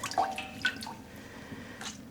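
Water drips and trickles faintly from hand-squeezed, freshly dyed light yellow yarn, a few soft close drops against quiet room tone.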